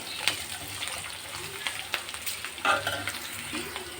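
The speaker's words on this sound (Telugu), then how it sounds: "ఇప్పుడైతే ముందుగా తరిగి పెట్టుకున్న మామిడికాయ తురుము ఇలా వేసి కొద్దిసేపు ఫ్రై చేసుకోవాలి" Grated raw mango frying in a pan for tamarind-style mango rice, a steady close sizzle with scattered stirring scrapes and clinks throughout, no talk.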